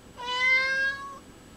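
A single clear meow from a house cat, drawn out for about a second, close and alone with no talking.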